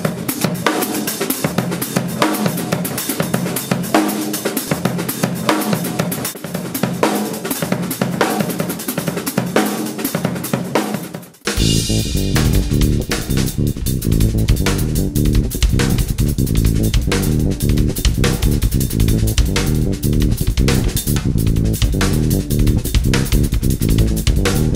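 Drum kit playing a counted beat at a clinic, dense and loud throughout with one brief break near the middle before the groove returns even fuller.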